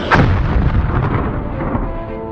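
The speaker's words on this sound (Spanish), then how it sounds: "destruir montañas, lo que se traducía en explosiones" A loud, deep blast followed by a rumbling roar that slowly fades, like a big explosion nearby, with no voices.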